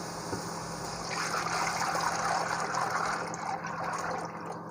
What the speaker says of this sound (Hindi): अब हम इस मसाले के अंदर जो हमने बनाया था, लस्सी सी बनाई थी, वो डाल देंगे।